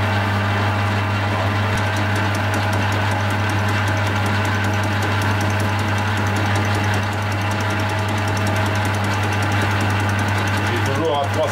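A metal lathe turns at 312 rpm and cuts with a jerky, uneven rhythm. A steady low hum runs under continuous fine chattering, and a voice talks over the machine.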